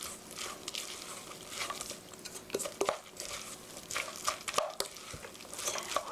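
Spoon scraping and clinking in a bowl while stirring a tuna and egg mixture for tuna toast, with soft irregular taps and wet squishing at close range, no talk.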